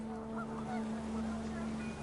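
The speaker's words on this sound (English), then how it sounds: "panicked geese appeared and quickly went" Panicked geese honking in the What Remains of Edith Finch video game, a brief, steady burst of calls over a low wash of wind or water ambience.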